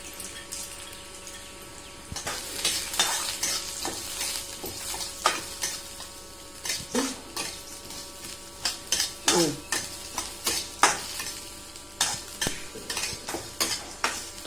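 Toor dal roasting dry in a pan for a thuvaiyal, with repeated spoon scrapes and stirring clatters over a faint steady background, the strokes coming in irregular bursts and growing busier toward the end.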